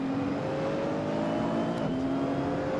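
A Nissan GT-R GT3 race car in Assetto Corsa, rear-wheel drive on soft tyres, holds a loud, steady engine drone through a corner, its pitch sliding briefly and shifting near the end, with no talk.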